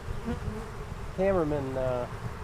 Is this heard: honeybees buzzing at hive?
yes